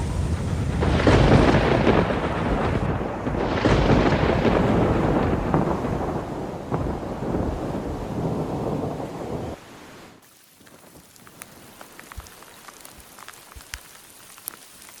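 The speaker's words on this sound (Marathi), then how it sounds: "पाऊस उघडायची वाट बघतोय आपण" Heavy rain pours in high mountains with a deep rumble of thunder. The downpour is loud and dense for about ten seconds, then cuts to a much quieter patter of scattered drops, with no voices.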